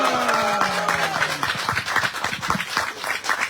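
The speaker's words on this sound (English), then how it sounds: "And while you're in the clapping mood, let's give it up for you." Audience applause at a religious gathering, a dense wash of clapping that swells and carries on steadily through the whole moment over a faint sustained tone that fades early.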